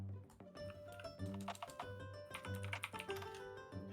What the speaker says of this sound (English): I hear him typing.